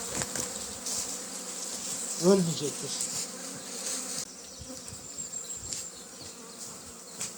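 Honeybees buzz steadily in a dense hum close by at an open hive during an inspection, with a brief spoken voice partway through.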